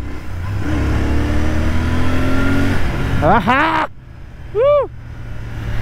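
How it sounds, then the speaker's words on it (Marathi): A GT motorcycle engine revving during a ride, a loud, steady drone that rises in pitch for a few seconds and then cuts off, followed by brief, wavering tonal sounds. "आपण फुल लेजेंडरी बाईक म्हणजे GT चालवतोय भाई"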